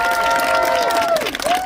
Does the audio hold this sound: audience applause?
yes